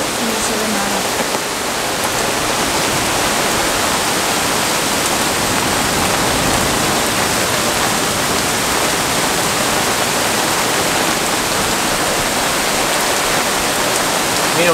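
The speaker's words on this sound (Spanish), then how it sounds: "Mira cómo está el cielo, es increíble cómo llueve." Heavy rain pours down during a DANA storm in Murcia, a dense, loud, unbroken hiss of downpour lasting throughout with no other sounds standing out.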